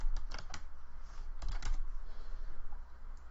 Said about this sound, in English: If I type something in the chat here, it pops up up there